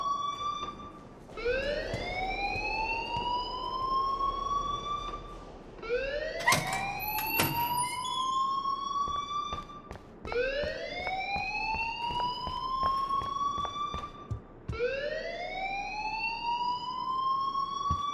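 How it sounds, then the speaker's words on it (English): A fire alarm rings in the video game Life is Strange, its rising electronic whoop repeating in steady cycles of a few seconds each, loud and continuous with brief clattering noises in the middle. "please turn off that alarm since that's your job"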